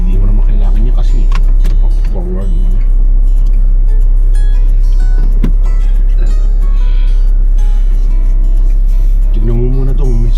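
A car backing up slowly in a grocery store parking area: a steady low engine hum runs throughout under people talking near the microphone.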